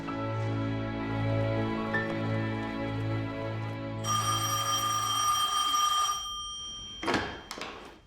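A telephone rings in a quiet room at a rural police station, a steady electric bell tone repeating several times and then cut short, followed by a couple of brief clicks as the receiver is picked up.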